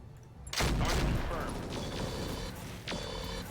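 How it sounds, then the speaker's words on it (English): In the RogueTech mod of the BattleTech video game, a sudden loud burst of an MG ammo explosion erupts, followed by rattling gunfire and metallic mechanical crunches, with a second sharp impact near the end. "Oh, MG ammo explosion."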